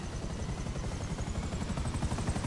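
A helicopter flown in a video game gives a steady, dense rotor thrum with a constant engine whine layered over it, continuous and fairly quiet throughout.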